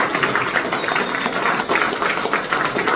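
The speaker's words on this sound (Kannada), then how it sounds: "ಜೋರ ಚಪ್ಪಾಳೆ." Loud, continuous applause from an audience at a business meeting or motivational talk, steady dense clapping filling the whole stretch with only a brief dip midway.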